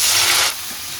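A whole cauliflower sizzles in hot white cooking oil, a loud bright hiss that drops to a softer steady fry halfway through.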